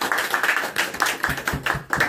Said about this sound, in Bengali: হাততালি একটা